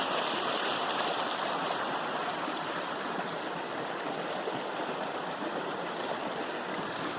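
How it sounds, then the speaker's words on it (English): A forest stream at Orris Falls rushes and gurgles in a steady, continuous wash of water, close by and unbroken, with no voices over it. "This is the stream where the falls originate."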